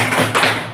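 A classroom of children claps the "Tepuk 3B" rhythm together, a few short, loud, close taps in quick succession.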